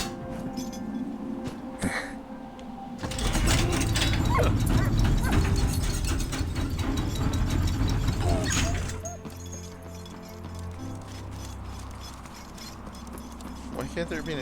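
A dog in the video game Valiant Hearts: The Great War whimpers, yips and barks close by, with a burst of louder rattling game noise in the middle and a person speaking over parts of it.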